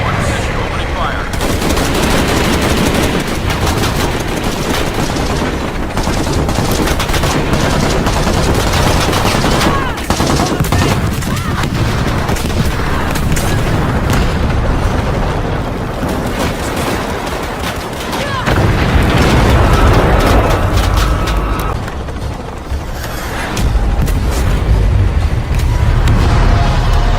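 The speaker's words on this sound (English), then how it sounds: "Pilot in position, opening fire." Heavy helicopter gunfire from the video game Rise of the Tomb Raider, a loud, dense stream of rapid bursts that runs almost without a break for nearly half a minute, with booming low-end impacts and no voices over it.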